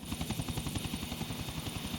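A helicopter flies in the video game GTA Vice City Next Gen Edition, its rotor chopping in a fast, steady rhythm at a moderate, fairly even level.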